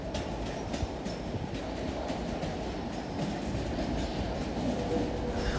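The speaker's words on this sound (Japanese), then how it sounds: "早速入線してきたのは鶴見止まりの列車です" A JR Tsurumi Line train pulls into Tsurumi Station, a steady rumble of rolling railcars with faint rhythmic wheel clicks, close and continuous.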